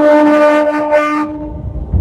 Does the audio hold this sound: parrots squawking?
no